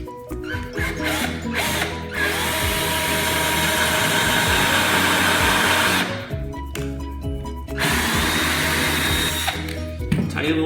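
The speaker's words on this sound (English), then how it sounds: "So here we go, drilling first." A power drill bores a hole for a screw while building a mini golf piece, with a loud close whine running for several seconds, a brief pause, then another sustained run.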